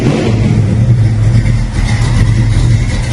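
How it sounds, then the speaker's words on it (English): A 1971 Ford Mustang Fastback with a 347 stroker V8 idles and revs through its exhaust, a deep steady rumble with a loping throb, close and loud with no talk over it. "The exhaust sounds great."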